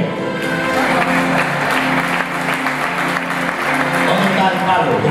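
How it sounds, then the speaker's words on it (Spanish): Church congregation clapping loudly and steadily during a Spanish-language sermon, with voices talking and calling out over the sustained applause. "Denle un fuerte aplauso a Noé."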